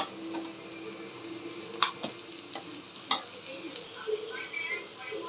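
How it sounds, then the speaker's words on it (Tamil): Ginger garlic paste and rock salt sautéing in a pan, a steady low sizzle with a few sharp stirring clicks and scrapes near the middle, close by, with no talking. "சேர்த்துட்டு கொஞ்சமாக கல் உப்பு போட்டு நல்லா இதை வதக்கிக்கோங்க."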